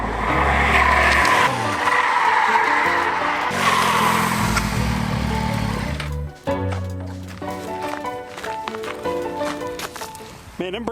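A 2018 Triumph Tiger XCA adventure motorcycle with a 21-inch front wheel braking hard on twisty desert road, loud engine and wind roar falling away as it slows, then lower engine tones with someone talking over it.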